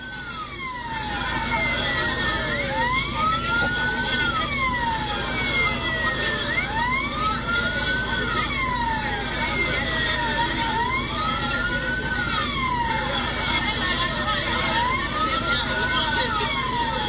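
Police and fire engine sirens wail in slow rising and falling sweeps as emergency vehicles arrive at a road accident scene in Côte d'Ivoire, loud and continuous over traffic rumble and some talking.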